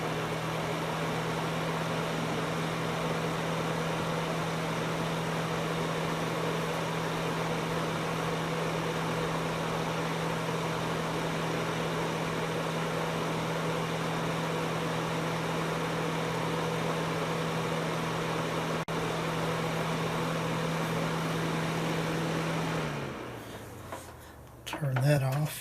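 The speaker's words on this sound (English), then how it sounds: "Alright, I'll start out with the fan only." Vintage Markel NuTone Scovill 445TN space heater running on fan only, a steady low hum with an airy whoosh held for about twenty seconds before the motor winds down and shuts off.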